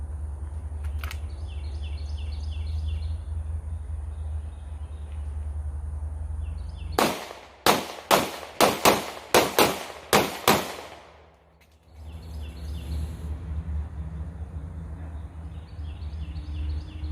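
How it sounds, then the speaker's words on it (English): Live-fire gunshots in a multiple-target engagement drill: six sharp, loud reports in a quick, slightly uneven string over about three seconds, with steady outdoor background noise before and after. "So now I'll do a live fire demonstration of multiple target acquisition and engagement."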